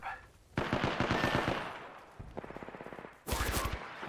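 Video game gunfire in Apex Legends: a loud burst of rapid shots, then a quieter, evenly spaced volley, and a final sharp close burst.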